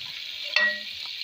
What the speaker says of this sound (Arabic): هنزل بقى بالفلفل الحراق والفلفل الرومي اللي انا قطعته اشوحهم كويس، وانزل عليهم بالسجق اشوحه تشويحتين كده